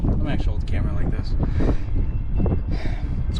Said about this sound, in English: It's windy as all fuck.